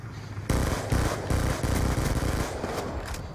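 Skorpion submachine gun fire in Black Ops 2 comes as a loud, close burst of rapid, dense shots lasting about three seconds, with no speech over it.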